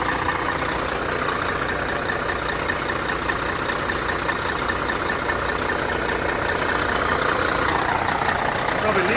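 A Kenworth truck engine idles with a steady, dense rumble that holds constant and fairly loud throughout, with no break and no voices standing out.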